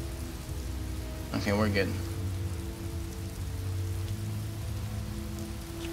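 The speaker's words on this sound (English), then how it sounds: "Hopefully make the rain go away." Steady rain falling in the video game Skyrim, a constant wash of hiss and patter filling the background throughout, with a brief voice speaking over it near the start.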